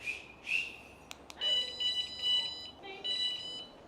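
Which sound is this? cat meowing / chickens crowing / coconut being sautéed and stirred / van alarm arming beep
van alarm arming beep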